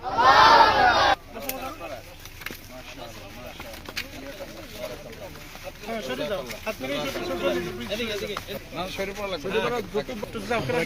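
Crowd of madrasa students from an orphanage madrasa in Jhalakathi chanting takbir outdoors, a loud burst of voices opening, followed by continuing chatter and shouting from many people.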